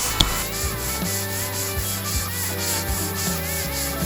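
Steady, continuous rubbing of 120-grit sandpaper across the hood of a 1972 El Camino during bodywork, a close, even abrasive scrape with slight rhythmic strokes and no talking.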